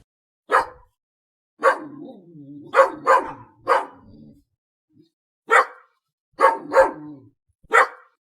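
A dog barks repeatedly in short, loud, close bursts, about eight barks with irregular gaps, some followed by low whimpering tails.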